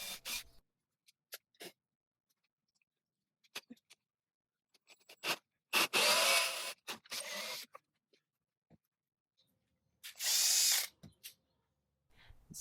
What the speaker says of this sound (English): The whole long rectangle section, I'm gonna just drill out as much as I can.